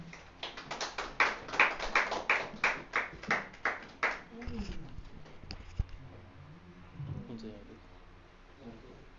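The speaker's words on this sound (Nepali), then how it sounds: "हामी तालीको साथ स्वागत गर्नेछौँ" A church congregation claps in welcome for the pastor, a short burst of rhythmic applause for about four seconds that then fades, followed by quieter room sounds and faint voices.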